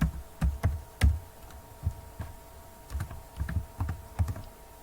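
A password is typed on a computer keyboard in short clusters of soft, close keystrokes with brief pauses between them, and no one speaks.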